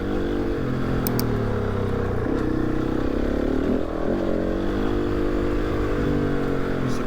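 An enduro motorcycle rides along a dirt track through a forest during a rally, its engine droning steadily with shifting revs, close and continuous throughout, with no talking.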